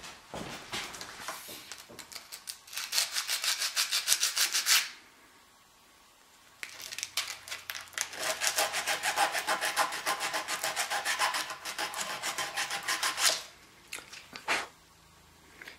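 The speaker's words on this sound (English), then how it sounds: "I'm just going to take a little piece of coarse sandpaper" Coarse sandpaper rubbing against the edges of magnets for a ribbon microphone build, heard as two long stretches of close, steady rasping scrapes separated by a short pause, with a final brief burst at the end.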